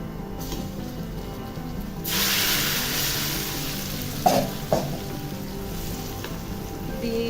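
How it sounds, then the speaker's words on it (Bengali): Fried onion tempering hits a pot of sweet pumpkin with a sudden loud sizzle that sustains steadily, followed by a couple of sharp stirring clinks and continued frying hiss, with no talking. "আমি এই পেঁয়াজের বাগারটা এখন মিষ্টি কুমড়ার মধ্যে দিয়ে দিব"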